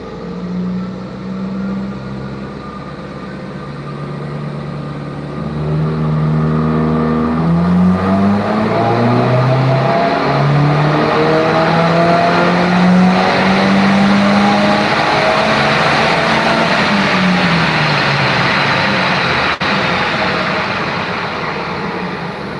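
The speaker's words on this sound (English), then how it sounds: "The car started to wiggle on the dyno." Tuned car engine on a dyno, revving loudly and climbing steadily in pitch through a long, sustained pull before easing off, close and alone with no voices.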